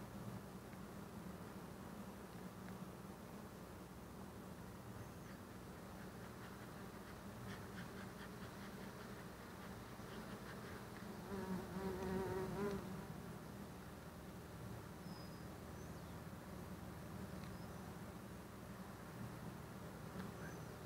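A dense, steady hum of many honeybees buzzing around an open Flow Hive during a spring inspection, continuous and close with a brief swell in the middle, no talking.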